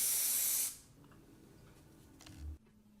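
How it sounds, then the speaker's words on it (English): Spray adhesive is sprayed onto boards in one short, loud, hissing burst that stops abruptly, followed by near quiet and a soft low thump. "I'm using spray adhesive to glue these onto the boards"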